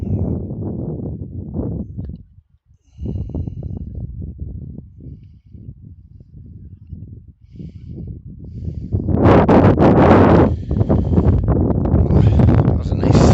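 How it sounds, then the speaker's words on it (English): A strong outdoor gust of wind at Gateway at Armstrong buffets the microphone with a loud, sustained roar after a stretch of talk and lingers for several seconds. "That was a nice gust of wind right down the old hoodie."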